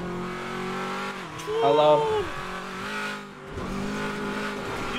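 Ram TRX Hellcat truck in a GTA video game, its engine droning steadily and revving up and down under a voice, swelling briefly louder in the middle.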